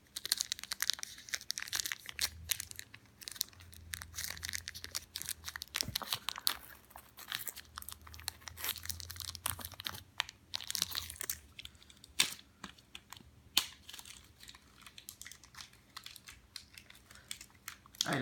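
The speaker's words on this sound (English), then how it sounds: "Get this little bit of tape open without trying to bend the cards too much." Close, quiet crinkling and tearing of tape and plastic packaging on a Bakugan Battle Planet Aurelus Dragonoid starter pack of cards, a steady stream of small clicks, rips and rustles with a few sharper snaps.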